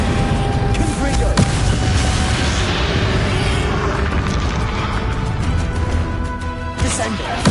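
Confringo fire-blast spells go off in the Hogwarts Legacy finale fight against Ranrock, dull booms and pops repeating through a constant loud rumble of combat noise, with voices speaking now and then.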